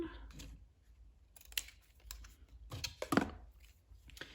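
Scissors snipping a heart-patterned ribbon for a Dollar Tree Valentine craft: a few quiet, close crisp cuts and rustles scattered irregularly over a soft room background.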